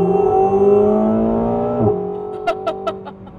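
A McLaren 750S Spider's engine drones loudly at high revs, then drops in pitch with a brief gearshift blip near the middle, followed by a few sharp pops or crackles from the exhaust as it settles.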